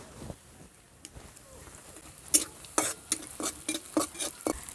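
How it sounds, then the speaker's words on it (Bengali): Sliced onions and green chillies fry in a pan while being stirred for a Bengali small-fish curry, giving a quiet sizzle broken by scattered spoon scrapes and clinks that grow more frequent. "কেটে রাখা কাঁচা লঙ্কাগুলো দিয়ে দিচ্ছি।"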